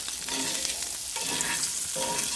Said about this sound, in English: we have our bologna in the pan.